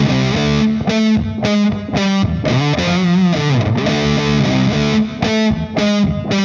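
Distorted electric guitar plays a riff, a loud, steady run of repeated palm-struck chords and bending notes with a driving rhythm, alone with no talking.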